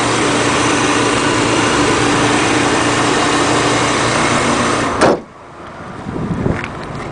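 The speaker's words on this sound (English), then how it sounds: "Small 4-cylinder engine," The small four-cylinder engine of a 1995 Subaru Legacy AWD station wagon runs with a loud, steady broadband hum, then a sharp slam cuts it down to a quieter, muffled drone.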